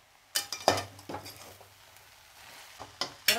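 Spicy fasting halva with potato being stirred in a pan, a few separate scrapes and clinks of a spoon against the pan over a faint background, with quiet gaps between strokes.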